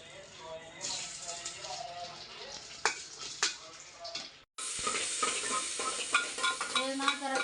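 Onion sizzling and frying in hot oil in a pan for a quick biryani, a steady crackle with scraping stirs and a few sharp utensil clinks, a brief break partway, then louder sizzling; a voice talks over it.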